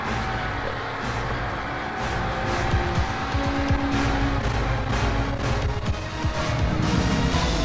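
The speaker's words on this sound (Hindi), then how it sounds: "120 की स्पीड पे चला रहा हूँ गाड़ी" A car driving fast on a highway at around 120 km/h, a steady loud engine and road roar with tire noise running continuously throughout, no voices.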